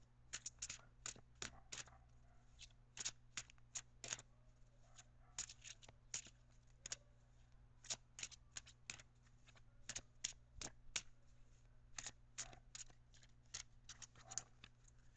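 Crisp riffling snaps of oracle cards being shuffled repeatedly in quick bursts, close up over a steady low hum, with no talking.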